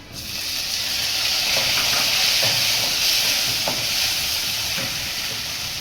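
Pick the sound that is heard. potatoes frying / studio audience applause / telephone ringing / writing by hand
potatoes frying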